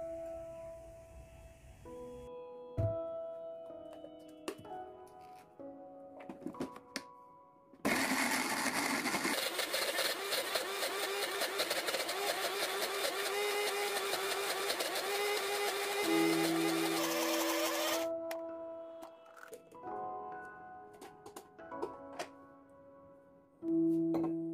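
An electric blender grinds candlenuts with vegetable oil, a loud steady whirring roar lasting about ten seconds between quieter clinks and handling sounds with background music.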